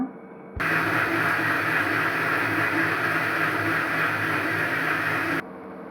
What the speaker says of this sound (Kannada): ಈಗ ಗ್ರೈಂಡ್ ಮಾಡ್ಕೊಂಡು ಬರೋಣ